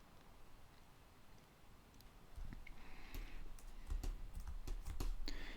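Keys pressed on a computer keyboard while working in Blender 3D software, a few quiet clicks rising in the second half, close and alone with no talk.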